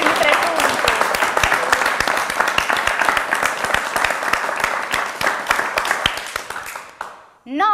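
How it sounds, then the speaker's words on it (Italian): Audience applause in a quiz show studio, a sustained burst of crowd clapping, loud and even for several seconds before dying away, ending with a brief voice. "Fatevi un applauso su per i vostri primi 3 punti."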